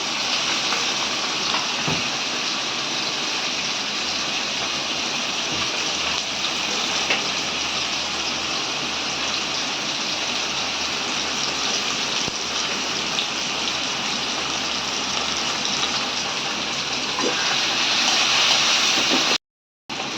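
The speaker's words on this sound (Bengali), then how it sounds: "এটাকে ভালো করে নেড়ে চেড়ে ভেজে নিচ্ছে" Dried churi (ribbonfish) shutki fries in a pan with chili, garlic and ground cumin, giving a steady, dense, loud sizzle that holds without a break for about twenty seconds before cutting off briefly at the end.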